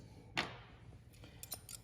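Cutters snip through a zip tie holding a control board inside a Bitimec 626-EZ, one sharp close cut followed by a few faint clicks and light handling noise.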